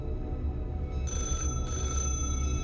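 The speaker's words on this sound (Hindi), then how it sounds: "अर्जुन को फिर से उस टेलीफोन के बजने की आवाज आई।" A telephone bell ringing at night in a house, two bright bursts of ringing in succession over a low steady background hum, fairly close and clear with no voices.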